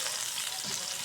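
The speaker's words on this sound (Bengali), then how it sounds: "বেগুনের সবগুলা রিং আমরা দিয়ে দিলাম দেখুন তেলের" Eggplant rings frying in hot oil, a steady bright sizzle that fills the whole moment, close and even with no talking.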